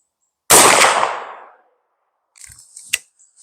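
A Marlin rifle chambered in .45-70 fires a single loud, close shot with a long ringing decay. A couple of fainter clanks and knocks follow a couple of seconds later.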